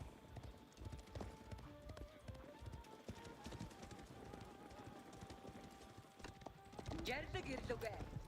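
Keshik horse cavalry hoofbeats in the Age of Empires IV strategy game, a dense, rapid clip-clop of many hooves at low volume under game effects and faint commentary, swelling louder near the end.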